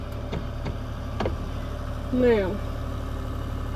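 A Chevy truck engine idles in a hilltop farm pasture with a steady low hum, while a person speaks briefly over it.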